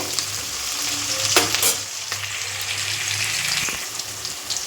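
Onions fry in hot oil for radish sambar while being stirred, making a loud, constant close-up sizzle with occasional scraping surges and no voices.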